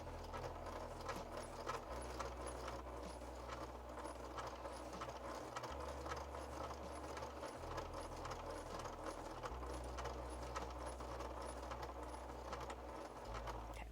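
A sewing machine stitches quilting in the ditch along patchwork seams of a goose-themed coat, producing a quiet continuous mechanical whir and rapid ticking with low motor hum, starting and stopping at intervals.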